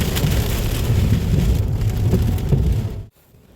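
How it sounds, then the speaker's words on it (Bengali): Steady heavy rain pouring down near St Michael's Mount, a dense loud wash of drops that cuts off suddenly near the end, no talking. "যখন আবার বৃষ্টি শুরু হয়ে গেছে।"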